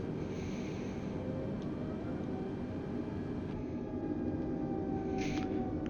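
An Airbus A320neo's jet engines roar steadily on the takeoff roll in Microsoft Flight Simulator 2020, a constant broadband rumble and whine spooling up with no voices over it.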